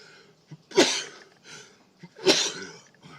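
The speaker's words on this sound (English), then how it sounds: "Two coughs, two sneezes." Two pairs of sounds, each a short cough followed by a loud sharp sneeze, close and clear, with quiet breathing between.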